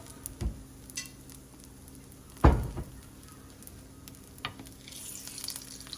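Muufo flatbread frying in oil in a home kitchen, a faint steady sizzle with a few louder sputters and one sharp pop-like crackle, no talking.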